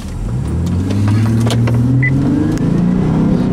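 A car accelerates on asphalt on a fine autumn day, its steady engine drone rising in pitch, loud and close, with no talk over it.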